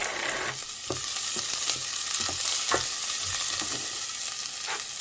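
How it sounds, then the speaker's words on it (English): Diced onion and shallots frying in olive oil in a pan, a steady loud sizzle with occasional scraping stirs and soft knocks throughout. "And fry it until it goes nice golden brown."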